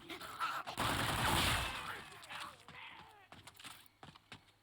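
An AK-47-style rifle fires in Infinite Warfare Zombies: a close, loud burst of rapid automatic shots that tails off into scattered sharper cracks and clatter.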